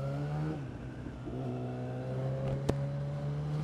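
A Yamaha FZ1 motorcycle engine revs close by, its pitch dropping into a steady, throaty idle, with one sharp click near the end.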